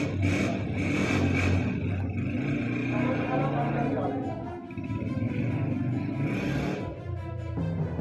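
A Honda 125 motorcycle kick-started and revved, its engine roaring loud and steady with a brief dip midway, while a voice talks over it.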